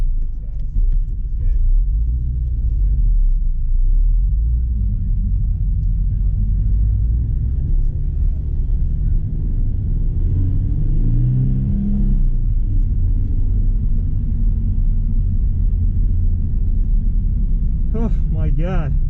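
A car's engine rumbles steadily and revs during a wet autocross run, a loud continuous low drone that rises and falls with acceleration, with no voices.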